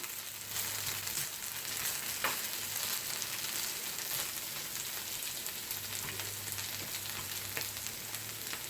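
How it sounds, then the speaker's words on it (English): Steady crackling sizzle of potatoes frying in hot oil, continuous and close, with a low hum underneath and occasional small pops. "These potatoes are frying up."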